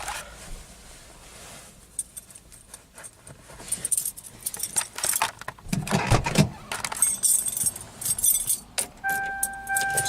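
Keys jangle and rattle beside a 1995 Toyota Corolla DX, clattering in bursts, and the car's door chime starts near the end as a steady two-tone electronic tone.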